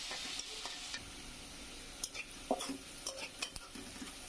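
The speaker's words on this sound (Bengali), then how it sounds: "আমি তেলের ভিতরে পেঁয়াজগুলো একটু ভালোভাবে ভেজে নিব" Onions frying in oil for a Bengali hilsa fish curry, a soft steady sizzle with scattered clicks and scrapes of a utensil stirring in the pan.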